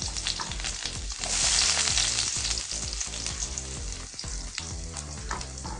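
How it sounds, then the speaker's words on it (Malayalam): Onion dropped into hot coconut oil with mustard seeds crackles and sizzles loudly and close, with repeated stirring strokes through steady frying. "ഉള്ളി ഇട്ട് കൊടുക്കാം."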